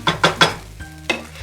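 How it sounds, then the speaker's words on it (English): Vegetable fried rice stirred in a hot pan, with several sharp scraping strokes of a utensil against the pan over a low, soft sizzle, close and fairly loud. "You can hear that delicious sizzle that it's making now."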